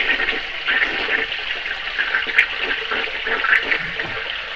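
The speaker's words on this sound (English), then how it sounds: "Let's flush it and see what happens." A small RV toilet flushes with a steady rushing, hissing wash of water lasting several seconds, close and fairly loud, with no talking.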